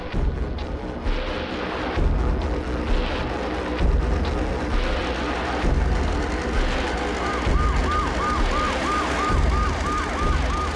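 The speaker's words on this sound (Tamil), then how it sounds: "ஆம்புலன்ஸ் கூப்பிடுங்க சீக்கிரமா" Ambulance siren wailing loudly and continuously in a TV crime drama scene, its rising and falling tone cycling over a dense, busy background with shouted voices.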